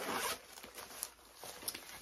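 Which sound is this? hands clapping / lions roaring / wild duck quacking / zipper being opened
zipper being opened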